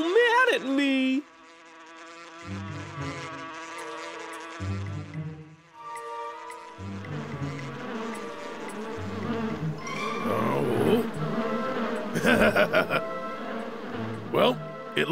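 Cartoon bees buzz in a Boonie Bears children's animation, a steady insect drone mixed with music and lively character voices that talk over much of the scene.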